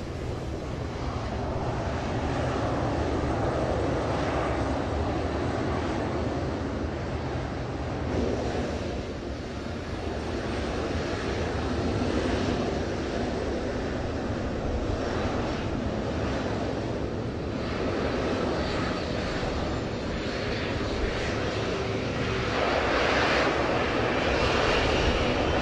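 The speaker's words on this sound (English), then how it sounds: "This plane was going to take off, but turned around too early" A steady, loud roar of an airplane engine running continuously as the plane takes off, with broadband rumble and wind-like noise throughout, no talking.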